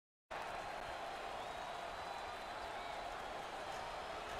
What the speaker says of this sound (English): look at the crowd, and look at the reaction. I think the home fans are going crazy